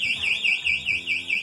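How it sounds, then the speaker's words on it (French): A piercing electronic alarm wails in a repeating rising-and-falling sweep, loud and continuous, with faint murmuring voices beneath it. "Les alarmes qui te percent le tympan."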